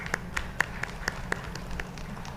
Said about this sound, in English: a big round of applause for this initiative